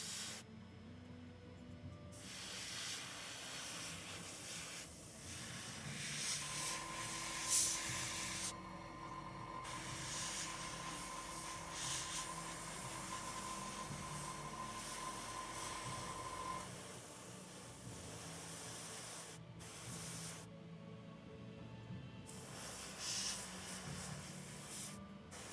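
Airbrush spraying paint onto a goblin-rider squig miniature, a close steady hiss in several bursts of a few seconds each, with one long continuous spray in the middle and short pauses between passes.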